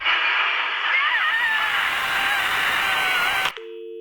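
Loud crackling telephone static with warbling tones cuts off abruptly at hang-up, leaving a steady dial tone humming alone at the end.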